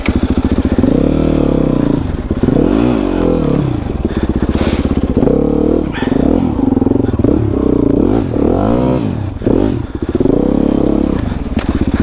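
A hard enduro dirt motorcycle engine revving hard and close on muddy terrain, repeatedly rising and falling in pitch with occasional clatter and thumps.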